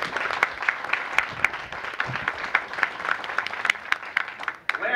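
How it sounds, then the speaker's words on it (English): Audience applause at a Democratic Club candidate forum: steady, dense clapping from a room of people, sustained evenly throughout with scattered sharper claps standing out. "please give them a round of applause for coming out and answering"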